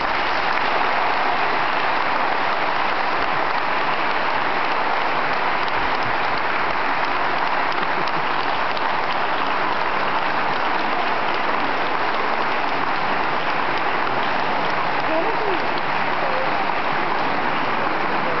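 A graduation audience claps without letup, a dense, even roar of hands that sounds almost like heavy rain and holds steady and loud.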